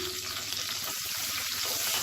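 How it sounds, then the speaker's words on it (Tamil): Chopped garlic and small shallots sizzle steadily in oil in a pan, a continuous close frying hiss with faint stirring scrapes and no talking. "இது எல்லாத்தையும் நல்லா வதக்கிக்கலாம்"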